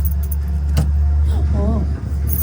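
Keys jangle at the front door of a newly bought house as someone tries to unlock it, a close, steady metallic rattle lasting a few seconds with a brief voice murmuring partway through.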